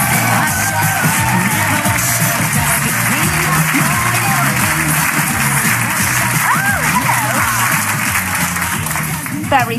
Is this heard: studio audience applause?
yes